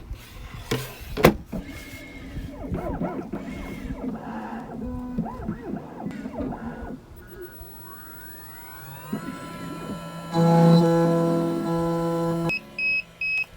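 Laser key cutting machine cutting a key, a mix of whirring motor sweeps, clicks and mechanical movement ending in a loud steady buzzing tone and short beeps, near and with no voices.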